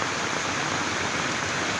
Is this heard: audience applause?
no